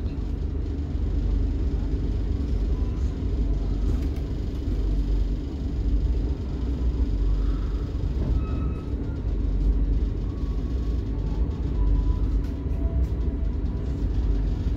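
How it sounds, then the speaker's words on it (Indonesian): KA Tegal Bahari passenger train pulling out of Tegal station, a steady loud low rumble of wheels and carriage running on for the whole stretch, with faint higher squeals now and then and no speech. "KA Tegal Bahari diberangkatkan dari stasiun Tegal menuju tujuan akhir stasiun Pasar Senen."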